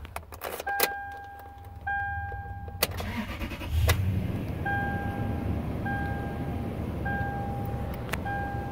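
A 2007 Toyota Tundra with 100,000 miles cranks over with a brief starter whir, catches, and settles into a steady low idle close by, with a few beeping dash chimes early on.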